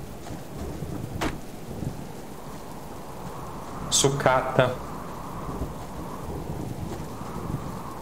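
Rain and a thunderstorm in the survival game Subsistence: steady rainfall with low rumbling thunder and a few sharp crackles, someone talking over it briefly.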